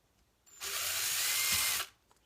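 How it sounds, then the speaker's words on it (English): A power drill whirs loudly and close for just over a second while boring a hole into a plastic egg, then cuts off abruptly, with no voices. "you just want to take your drill and you're going to take your plastic egg"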